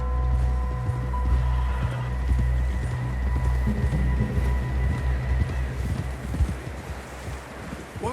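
A horse in the Western video game Red Dead Redemption whinnies among steady hoof clip-clops, with a low rumbling drone and wind-like noise running beneath the whole passage.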